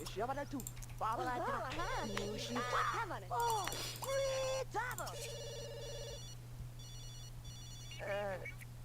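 A telephone rings in The Sims, a repeated electronic ring with steady tones standing out among overlapping voices and a constant low hum, the ringing continuing for several seconds.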